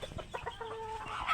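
A flock of backyard chickens clucks close by at feeding time, a quick run of soft, uneven clucks and short calls overlapping for barely over a second, quiet and with no talking.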